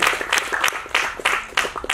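An audience at an honouring ceremony applauds with a quick, uneven patter of many hands clapping, fairly soft throughout.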